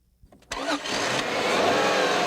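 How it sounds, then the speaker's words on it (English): A 2001 Subaru H6 six-cylinder boxer engine catches after a few brief cranking ticks, then settles into a steady, full running hum nearby. "Subaru's first 6-cylinder since the discontinued SVX, and it's affectionately called the Boxer engine"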